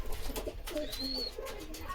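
Red-headed Andhra/Madras breed pigeons coo softly nearby in a short series of low, throaty calls over a faint background hum.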